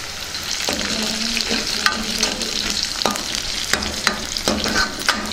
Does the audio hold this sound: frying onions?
yes